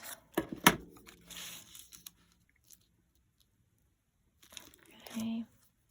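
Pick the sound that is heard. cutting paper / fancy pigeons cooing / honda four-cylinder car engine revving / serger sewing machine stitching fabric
cutting paper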